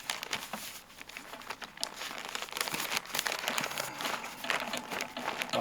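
Wrapping is crinkled and folded tightly around a smoked brisket, producing continuous close crackling and rustling with uneven bursts.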